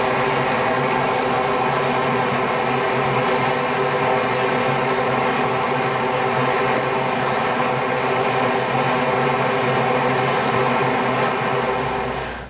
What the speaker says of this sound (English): I've been blowing kapok into this cover for an hour now.